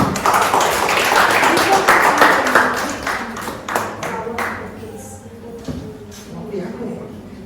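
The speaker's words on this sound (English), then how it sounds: "Come on, Samvidha. Give a round of applause." A Holi celebration audience claps for a storyteller, the dense applause fading into scattered, sharper claps as it winds down, with faint shuffling in the room.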